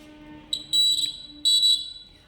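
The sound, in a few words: buzzer sounding once for green light, blind-crossing traffic signal project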